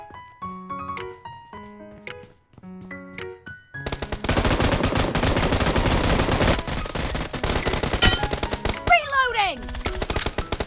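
Pistol gunfire in the BGMI mobile shooter, a dense run of sharp rapid shots that starts abruptly after a few tonal game cues and keeps up loud and steady to the end.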